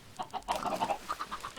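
Chickens in Minecraft clucking in soft, short repeated calls, several overlapping at moderate distance, with faint background noise and no speech.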